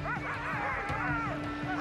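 Sled dogs at an Arctic starting point yip, bark and whimper excitedly close by in a rapid, overlapping clamor of high, wavering cries.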